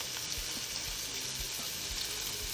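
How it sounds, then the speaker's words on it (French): Minced meat frying in a pan, with a constant, moderately quiet hiss and sizzle and faint low bumps as it is spread out. "on va bien répartir la viande sur toute la surface de la poêle"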